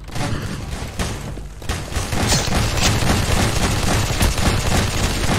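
Loud, dense gunfire from Garry's Mod fills the whole stretch, overlapping shots and bursts layered into a continuous chaotic barrage with no clear pauses.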